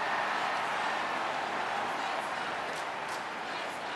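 A dense crowd roars continuously at an AFL Sydney Swans versus Western Bulldogs match in 2020, a broad steady wash of cheering in the stadium without pauses.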